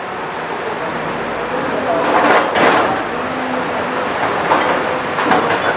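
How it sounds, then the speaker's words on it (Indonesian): Rain falls steadily at an excavator worksite in Kalibaru, Indonesia, a continuous hiss on surfaces with a couple of louder gusts and faint background voices. "Meskipun kondisi hujan, masih jalan terus ekskavator"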